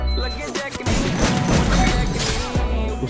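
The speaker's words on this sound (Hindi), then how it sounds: "इतना दूर मारता ही नहीं यार शॉटगन।" Shotgun fire in the battle royale game Free Fire, with loud, dense blasts and crashing impacts that fill the moment, layered with game sounds and a voice.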